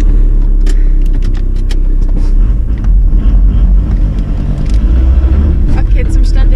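A car engine rumbles steadily and loudly while towing another car out of water at night on a Spanish road trip, a low continuous drone with wind buffeting and brief metallic clinks, no talk over it.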